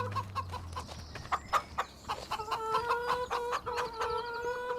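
Farm chickens cluck close by, several hens overlapping in short repeated calls, with a few sharp louder squawks mixed in and no one talking.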